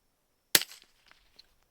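A single sharp, cracking shot from a suppressed Savage Mark II FVSR rifle with a Lone Star Scoundrel suppressor, close and abrupt, followed by faint clicks and a short quiet tail.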